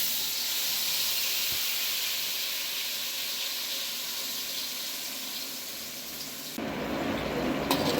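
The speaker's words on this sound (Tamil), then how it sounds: "இப்போ எண்ணெயில் போட்டு வதக்கிக்கலாம் வாங்க." A ground green mint masala paste for chicken curry fries in hot oil, giving a steady, soft sizzling hiss that shifts abruptly to a rougher, brighter crackle near the end.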